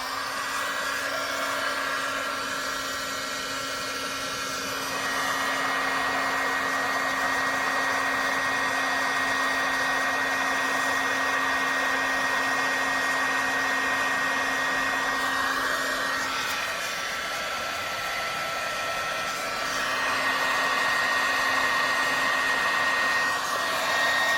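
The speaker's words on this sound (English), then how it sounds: "I'm going to grab my heat tool. turn it on." Heat embossing tool blowing hot air over embossing powder on a handmade wedding card, a steady loud whirring drone with a faint tonal hum that runs continuously for the whole stretch, briefly dipping twice.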